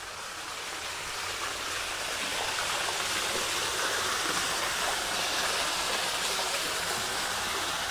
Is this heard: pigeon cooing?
no